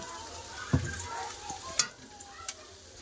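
Flat beans with neem flowers fry in a pan, a faint sizzle punctuated by a few scraping stirs and clinks of a utensil, close and quiet.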